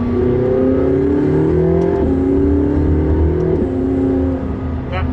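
A McLaren 675LT sports car engine revs steadily and loud, pitch climbing then dropping with quick gear shifts, a continuous close mechanical roar.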